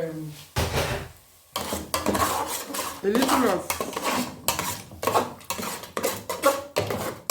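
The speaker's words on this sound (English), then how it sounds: "I'm going to add the onions." Chopped onions clatter into a pan for a cauliflower breakfast dish, with loud metallic pot and utensil knocks and scraping stirs in bursts throughout, while a person talks over it.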